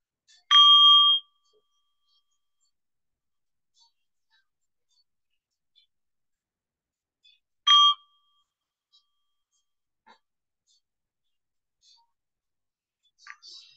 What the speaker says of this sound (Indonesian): Bell masternya tolong dibantu 3 suara genta.